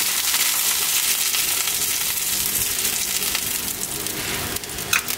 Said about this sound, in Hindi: घी साइडों पे लगाते जाना है इस तरह।